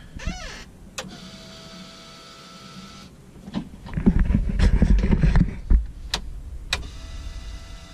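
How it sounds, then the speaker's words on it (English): A loud whining mechanical hum from a Honda CRX's fuel pump priming rises and drones, with clicks and rattling engine noise from its H22 engine building up midway. "I just want to make sure we got fuel pump."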